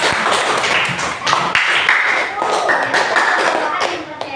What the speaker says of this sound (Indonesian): Nah, kita tepuk dulu buat yang final.